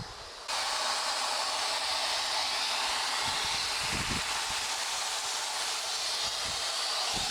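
Water sprays steadily from a hose into plastic water barrels on an allotment, a constant loud hissing wash with occasional low splashing thuds, starting abruptly after a brief quiet moment.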